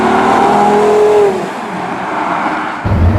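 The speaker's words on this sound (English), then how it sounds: "But on the outside, it sounds like a race car." Porsche Carrera GT exhaust note, a loud close engine wail climbing then dropping off, a brief lull, then a low rumbling burst as the car moves on.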